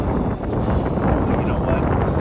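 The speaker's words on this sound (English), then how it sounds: "It's getting windy, the storm's coming" Strong wind gusting across a lake ahead of an approaching storm, a steady loud broadband rush buffeting the microphone from a boat out on the water, with speech over it.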